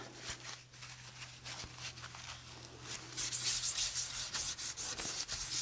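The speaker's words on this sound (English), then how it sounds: "And you can use Kleenex, a cloth," A cloth or tissue rubs oxide ink around on a surface in soft, steady scrubbing strokes, quiet at first and then louder and more rhythmic, with no talking.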